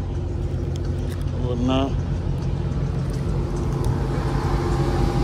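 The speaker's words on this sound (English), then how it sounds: "A lot of cars, a lot of action out here." Steady traffic noise from cars driving on a highway, with Hellcats, Chargers and Scat Packs among them, a broad continuous rumble and wind-like hiss while a voice speaks briefly over it.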